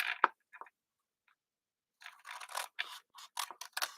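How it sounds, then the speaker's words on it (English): Several short crisp snips of scissors cutting, close by, with a quiet pause before a quicker run of cuts near the end. "So let's grab our scissors."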